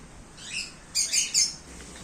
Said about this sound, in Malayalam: കുഞ്ഞു പ്രാവ്